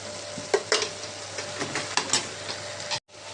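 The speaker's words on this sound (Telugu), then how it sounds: "దీన్ని కూడా బాగా కలుపుకుందాం" Stirring chili powder into okra curry in a pan, with repeated spoon scrapes against the pan over a continuous close sizzle of frying, ending in a brief cutoff.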